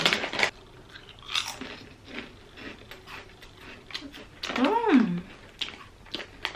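Someone bites and crunches a salted egg flavored snack, producing a few short crisp crunches spread over several seconds, with a brief voice sound partway through.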